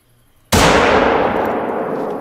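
A rifle fires in the hunting game theHunter: Call of the Wild while stalking a warthog: one loud, close shot bursts out of near silence and rolls away in a long, slowly fading echo.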